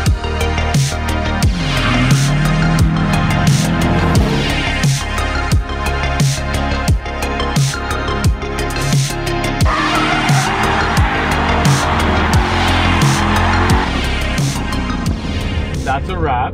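A Corvette drifts on a Wednesday night drift event, running Zeknova or Valino tires, with loud, nearly continuous tire squeal and engine roar for the whole stretch. Voices come through now and then.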